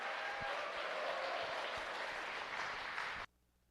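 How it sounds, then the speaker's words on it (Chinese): An audience in a church gathering claps warmly for a pastor, a steady dense wash of applause lasting about three seconds before cutting off abruptly into silence. "热烈的掌声欢迎他，欢迎他"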